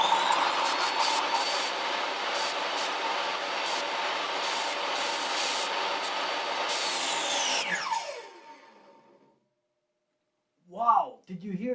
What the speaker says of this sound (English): Wow, did you hear that brake kick in? It stopped the blade like boom.